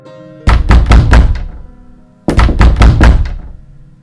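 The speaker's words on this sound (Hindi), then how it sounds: "जैसे ही 12 बजा किसी ने दरवाजे को जोर जोर से खटखटाया" Loud knocking on a door as a horror-story effect, two bursts of rapid heavy thuds, about five blows each, separated by a short pause, close and alone with no talk.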